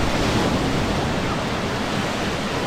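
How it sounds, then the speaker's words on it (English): Surf rolls onto the white sand of Boston Beach in Portland, Jamaica, as a dense, steady roar of breaking waves mixed with wind rushing across the microphone, with no voices. "it's white sand beach"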